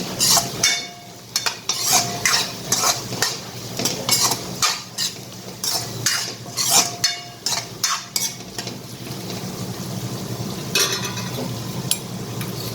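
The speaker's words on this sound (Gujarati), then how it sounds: "હવે આમાં આપણે અડધી ચમચી હળદર નાખીશું અને હલાવી લઈશું" A spoon stirs turmeric into a sizzling potato and fenugreek curry, scraping and clinking against the pan in repeated irregular bursts over a soft frying hiss, with no speech.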